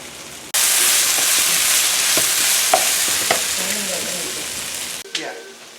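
Onion and curry leaves frying in a pan for a shrimp dish, a loud steady sizzle that starts abruptly, with occasional stirring clinks and pops, then cuts off near the end.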